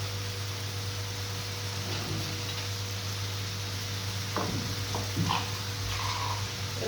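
Garlic sizzles in hot oil with potatoes for a potato shakshuka, a steady hiss of frying with a few soft stirring scrapes and clinks near the end.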